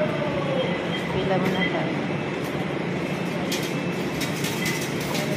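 Metro rail station with a train running, a steady rumbling roar with faint screeching and clatter throughout, while people talk nearby over the noise.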